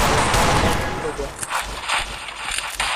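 Rapid gunfire bursts from a shooting video game, with sharp repeated cracks over a dense, busy background and a voice talking over the action.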